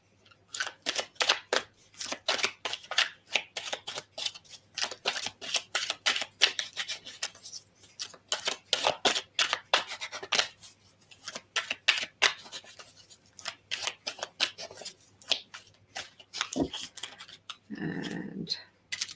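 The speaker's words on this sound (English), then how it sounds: "I will draw some cards for you as well" Oracle cards being shuffled and drawn, giving a long run of quick, crisp card snaps and riffles at close range, ending in a short, duller handling sound.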